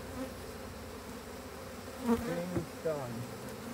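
Honey bees buzz around an open hive, a steady droning hum with a few nearby bees swelling louder as they pass close.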